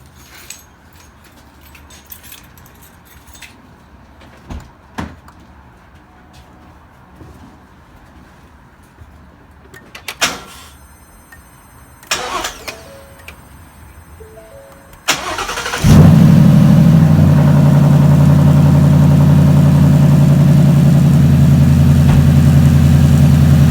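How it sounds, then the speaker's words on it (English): A 2015 Mustang GT sits quiet with a few clicks and key sounds, then the engine cranks and catches with a loud start and settles into a steady, rumbling idle close by. "So I'm going to turn the car on."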